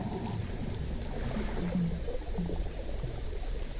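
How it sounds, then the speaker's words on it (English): Water sloshing and splashing against a small fishing boat in Dredge, heard as a steady low, churning wash with soft bumps, continuous and moderately close throughout. "I love that you can hear the water on the boat"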